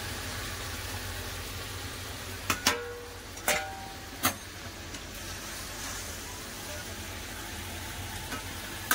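Chicken pieces fry in hot oil with a steady, hissing sizzle throughout. A few sharp clacks of a utensil against the pan stand out near the start, and no one speaks.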